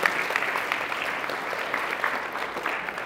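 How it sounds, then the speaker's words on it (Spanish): Church audience applauding, a soft steady wash of many hands clapping at a distance for about three seconds, with no clear speech. "Un aplauso, por favor."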